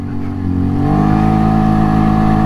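A 2022 Segway AT6 SX 570 ATV climbs a hill, its engine and CVT droning loud and close as the revs rise and then hold at a steady, strained pitch.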